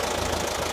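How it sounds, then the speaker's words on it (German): Self-propelled pumpkin harvester's engine running, a steady dense mechanical drone with a rough knocking throb, loud and close with no talk. "Kürbisroder in Aktion."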